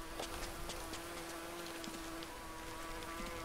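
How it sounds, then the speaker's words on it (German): Mosquitoes or bees buzz faintly in the jungle of the survival game Green Hell, a thin steady drone with light scattered ticks in the background and no voices. "Irgendwo hier fliegen Stechmücken oder Bienen oder sowas."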